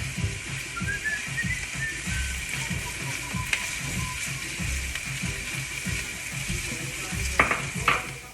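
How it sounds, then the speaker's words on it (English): Minced garlic and onions sizzling steadily in a pan as the base for a fish stew, with soft stirring scrapes and a brief utensil clink near the end. "I'm going to put in the minced garlic and let that also cook just for a minute or so"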